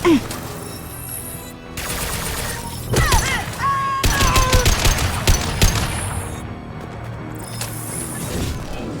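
Heavy gunfire in the Mass Effect 2 video game: dense bursts of rapid automatic shots and sharp impacts, with mechanical whirs and pitched effect tones between the bursts, loud and close.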